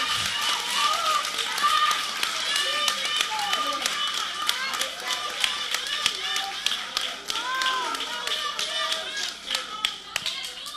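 A church congregation claps during a Portuguese-language family service, producing dense, continuous hand claps with sharp individual taps throughout, mixed with scattered voices and shouts from the crowd.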